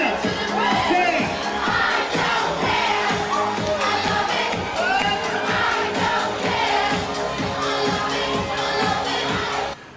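Guests at a wedding belt out a song together, a loud massed chorus of shouting voices over a thumping dance beat, cutting off abruptly at the end.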